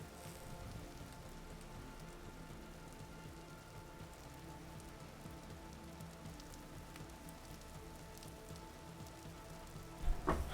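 Rain falling in the video game Vintage Story, a soft, steady patter and hiss of drops on surfaces that stays faint and even, ending in a brief louder clatter.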